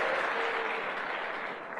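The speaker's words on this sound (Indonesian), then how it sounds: "Tepuk tangan buat Anda semua" An audience at an Indonesian motivational talk applauds, a dense, steady burst of clapping filling the room throughout the moment and easing slightly toward the end.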